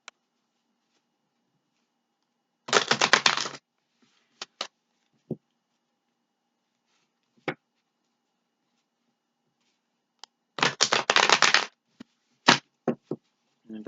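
A tarot deck is shuffled in two brisk riffling bursts several seconds apart, each a dense flutter of card edges, with scattered single card taps in near silence between them.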